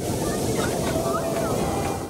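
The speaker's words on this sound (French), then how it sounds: "Même les vagues en furie de l'océan ne peuvent l'arrêter." Raging ocean surf on a beach, a steady loud wash of breaking waves with wind buffeting the microphone, continuous throughout.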